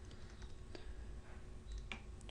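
Keys tapped on a computer keyboard while entering a line of Visual Basic code, a steady run of light clicks with a few sharper strokes, close and fairly quiet with no talking.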